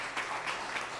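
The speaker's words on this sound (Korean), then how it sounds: "박수로 환영하겠습니다" Church congregation clapping to welcome a visiting pastor at a Sunday service: a faint, brief, even patter of applause from a roomful of people, heard at a distance.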